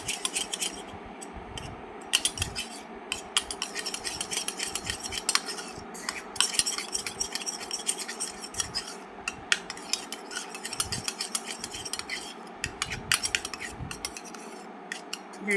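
Metal spoon stirring and scraping curd, lemon, coffee powder and tomato together in a small bowl for a beauty pack, a steady run of clinks and scrapes, close and fairly quiet, no voices.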